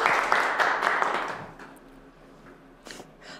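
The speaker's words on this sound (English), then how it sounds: "Give her another round of applause," A room of executives applauds at a live public speaking coaching session, brisk clapping that thins out and fades after about a second and a half, followed by a few scattered claps and faint room noise.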